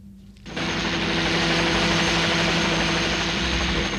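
A helicopter in flight roars up abruptly after a quiet moment, then holds a loud, steady, close rotor-and-engine drone filling the rest of the scene, with no talk over it.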